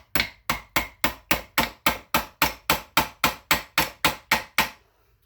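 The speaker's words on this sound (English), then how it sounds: "It's a tack hammer, and this fits in there real nice. So we just tap it in." Tack hammer tapping a part into a front-wheel-drive manual transmission, about seventeen sharp, evenly spaced metallic strikes in a steady rhythm, loud and close, ending abruptly.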